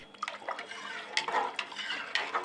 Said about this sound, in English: Stir the rennet into the warm milk.